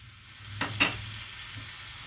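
Carrots drop into a frying pan holding milkfish, tofu and vegetables, making two quick close thumps and a brief sizzling burst that then settles into a low, quiet frying hiss.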